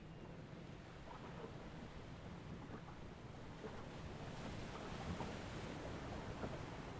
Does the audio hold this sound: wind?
yes